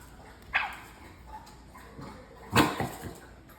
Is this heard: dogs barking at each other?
yes